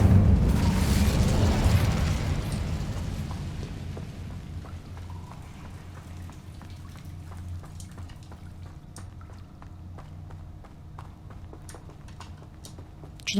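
The Incendio fire spell bursts in Hogwarts Legacy with a loud whooshing blast that fades over several seconds into a quiet background scattered with faint clicks.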